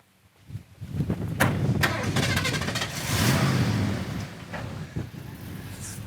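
A 1970 Ford Torino GT convertible cranks and fires up, the engine catching with a rising roar, then settling into a loud rumbling idle with occasional voices nearby.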